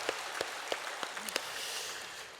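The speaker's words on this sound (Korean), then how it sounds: "우리 하나님께 영광의 박수를 올려드릴까요?" Congregation in a church sanctuary clapping, a scattering of distinct claps at first that builds into faint, steady applause, fairly quiet and distant.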